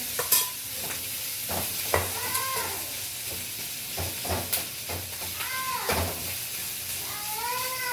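Fenugreek fries in a pan while being stirred, a continuous hiss and sizzle broken by regular scraping strokes and a few bright metallic squeaks and clinks, close and moderately loud.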